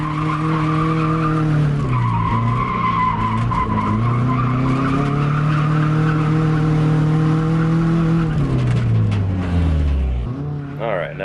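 A 1999 Subaru Legacy skids through a drift, its tires squealing in long, loud wavering tones that rise and fall over a steady engine drone, ending in a sharp slide as the car spins out.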